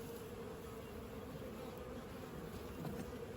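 Honey bees hum in a dense, continuous drone around an open beehive in an apiary during winter feeding checks, a faint steady buzz with no talking.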